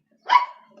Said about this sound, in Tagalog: Ang ingay ng aso ng kapitbahay.